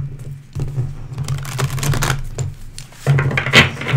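Rapid papery riffling and soft slaps of tarot cards being shuffled, close by, in uneven bursts over a low steady hum.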